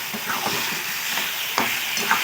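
Taro greens, potato and chickpeas are sautéed in a pan with only a little leftover cooking water, giving a steady close sizzle with occasional soft scrapes and clinks of a stirring spoon.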